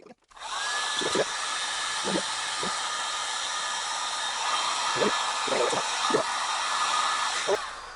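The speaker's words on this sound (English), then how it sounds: "Plug in the heat gun." A heat gun blows hot air over a welder gun wire in a steady, loud, continuous whoosh, with a faint whine and a few light knocks of handling underneath.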